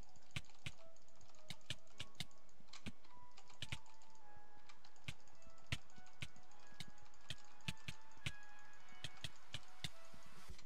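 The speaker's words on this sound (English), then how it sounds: "I'm clicking so fast right now" Rapid mouse clicking during a Minecraft Skyblock duel, sharp quick clicks in uneven bursts, close and fairly quiet, running the whole stretch over faint game sounds.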